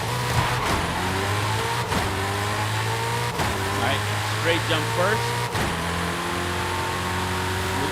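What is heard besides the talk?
Hennessey Venom F5 engine revving in the game Forza Horizon 5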